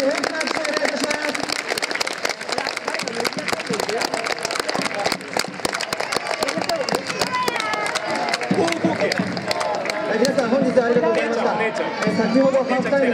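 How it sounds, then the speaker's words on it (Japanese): Crowd applause and cheering at a football match for a player who scored two goals, steady and loud throughout, with voices and chatter mixed in over the clapping. "本日見事2ゴール佐藤光大選手に大きな拍手をお願いいたします"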